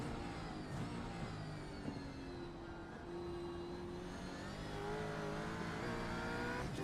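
A race car engine on throttle in a Bathurst 1000 sim racing game, a steady loud drone with rising and shifting engine tones throughout, no talk.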